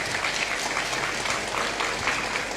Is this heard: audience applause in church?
yes